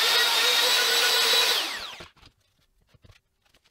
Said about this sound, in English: I'm going to try to see if I can figure out where to drill a pilot hole